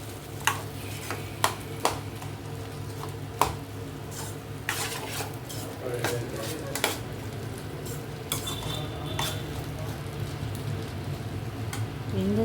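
A spoon stirs potato fry in an uncovered pan, giving sharp metallic taps and scrapes over a steady low sizzle, close and moderately loud.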